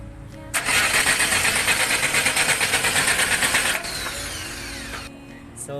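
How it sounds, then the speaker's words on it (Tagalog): A diesel loader engine cranks with a rapid, pulsing starter rhythm for several seconds after air is bled from the fuel line, then catches and settles into a steadier idle, loud and close. "pag mawawala na yung hangin, aandar na ang makina ng ating loader"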